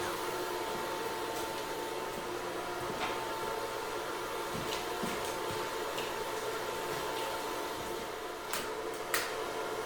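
Gas forge burner firing, a steady, loud roaring hiss that holds evenly throughout, with a few faint clicks and knocks on top.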